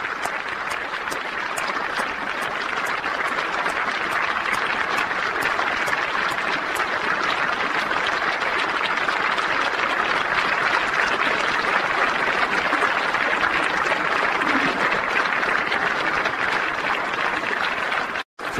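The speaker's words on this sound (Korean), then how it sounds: "지금 박수로 박근혜 대통령의 입장을 환영하고 있습니다" Sustained, loud applause from a large crowd at a South Korean political gathering greets President Park Geun-hye's statement, a dense, even wash of clapping that continues unbroken before cutting off abruptly.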